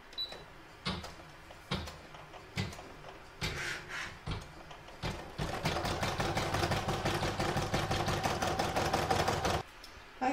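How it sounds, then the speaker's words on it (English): Sewing machine stitching cotton batting down over a stocking outline for a crazy patch stocking, starting with a few short bursts and then running steadily in a fast, even mechanical rattle for several seconds before stopping. "I'm now going to place my batting over the outline as we did before and stitch it down."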